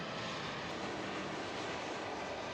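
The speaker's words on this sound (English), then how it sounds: "we got to watch some planes land and take off while our dinner was being prepared" Steady broadband roar of an airplane at Albany Airport during landing or takeoff, a continuous engine rush at moderate loudness with no talking.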